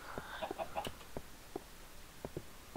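Short clucks from a chicken in the Minecraft game, a string of sharp, evenly spaced notes that come through clearly and fairly close. No voices are heard.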